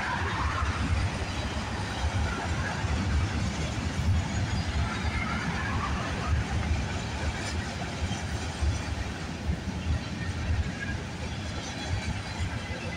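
A freight train rolls past on a mainline in a steady, continuous rumble of wheels and rail noise, with faint squeals, lasting throughout without talk.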